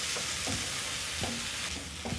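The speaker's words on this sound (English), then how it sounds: "Once my garlic and ginger are cooked, I'm going to add in my tomatoes." Tomatoes are stirred into garlic and ginger frying in a pan, a soft, steady sizzle with a few scraping stirs of a utensil, quiet and close with no voices.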